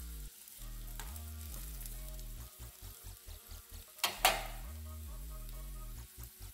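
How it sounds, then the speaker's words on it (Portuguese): Tomato sauce is added to gratin potatoes sizzling in a pan, making a steady frying hiss with a brief louder splash and crackle near the middle, no talk. "Agora eu vou colocar o molho de tomate."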